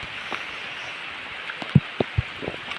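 Heavy monsoon rain in rural Konkan keeps up a soft, steady patter, with a few distinct drops and taps landing nearby over the even wash.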